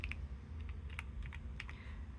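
Keys on a Keychron V1 Max mechanical keyboard are pressed in a loose, uneven run of crisp clicks, close and fairly quiet, with no voices.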